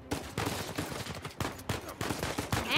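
Rapid automatic gunfire from the video game Uncharted 4 rattles in dense repeated bursts, loud and close, continuing throughout with no voices over it.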